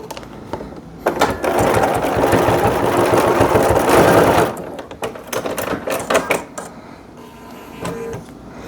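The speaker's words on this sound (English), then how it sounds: "I go back to a regular straight stitch on my machine, and I just stitch across the top to hold it together" A sewing machine runs a straight stitch across the top of a small fabric key fob, a loud, steady rapid whirring burst lasting a few seconds, followed by scattered clicks and handling noises close by.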